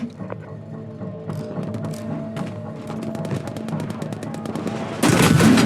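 Rapid video game gunfire rattles in dense bursts of shots, loud and close, ending in a heavier blast of noise.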